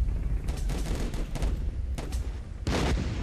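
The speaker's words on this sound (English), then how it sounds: "Artillery is getting dangerously close." Battlefield gunfire and booming explosions in the World War I trench game Warfare 1917, with irregular loud blasts and crackling shots over a constant rumble, one heavy impact standing out near the end.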